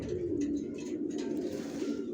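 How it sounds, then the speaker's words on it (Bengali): A young male racing pigeon coos repeatedly at close range, a low, throaty, rolling call in continuous short pulses. "দেখুন এখন এই ডাকাডাকি করতেছে নর বাচ্চাটা"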